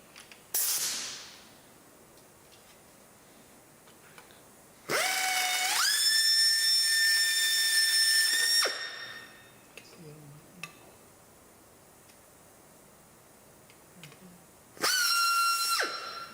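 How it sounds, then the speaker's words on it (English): Small drill opening holes to 1/8 inch in a C4 valve body, running in two separate whining bursts of a few seconds each with a steady high tone that rises as it spins up, set apart by quiet stretches. "Now we drill these to 1/8."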